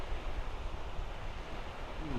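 Onshore wind blowing at a Great Lakes beach, a steady broadband rush of gusts and microphone buffeting filling the short stretch, with no talk over it.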